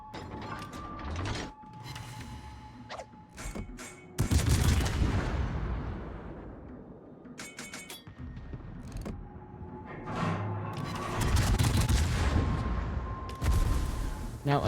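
Heavy naval gun salvos from a German Bismarck battleship in World of Warships: loud booming blasts land around the fourth second and again near the tenth to twelfth, amid mechanical clanking and continuous battle noise, with a voice briefly present.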